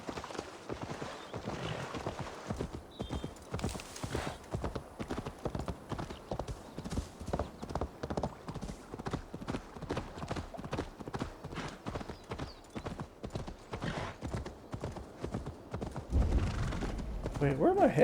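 A horse gallops in Assassin's Creed Valhalla, a long run of rapid, regular hoofbeats under someone talking over the gameplay, with a whinny near the start and louder noise building at the end.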